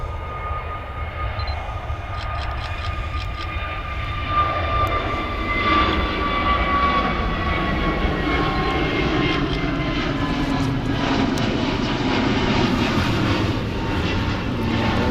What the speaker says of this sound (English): we've got another takeoff now